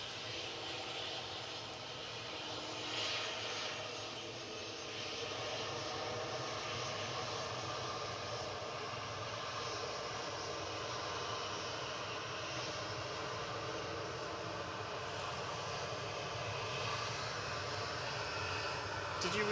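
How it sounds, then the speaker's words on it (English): A Finnair airliner arriving from Helsinki at Manchester Airport produces a steady, moderate engine roar heard from some distance, holding even through the arrival with a slight rise near the end. "Finnair's in next, coming in from Helsinki"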